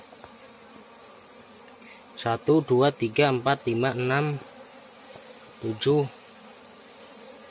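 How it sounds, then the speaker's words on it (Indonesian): Honey bees buzz close by during a honey harvest, in a cluster of uneven, wavering bursts over a few seconds, then one short burst after a pause, against quiet background noise. "ini lebah saya ya"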